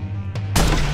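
A single sniper rifle shot in Watch Dogs, a sudden loud crack bursting out after a faint click, close and alone over a low game hum.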